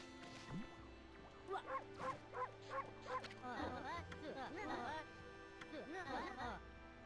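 Cartoonish dog barks from the game Okami HD, a run of short yips and bow-wows repeating at a steady rhythm over background game music, fairly close and clear.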